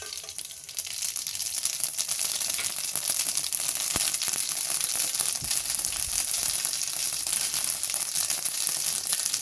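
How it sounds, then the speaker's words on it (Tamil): Mustard seeds spluttering in hot oil while a tomato sambar is cooked, a steady dense crackle and sizzle lasting throughout, close and fairly loud, with a few sharper pops and no talking. "கடுகு பொரிஞ்சிருச்சு."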